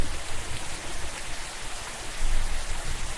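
Steady rain in the video game Rainswept falls in a dense, hissing patter, swelling briefly louder near the end, with no voices.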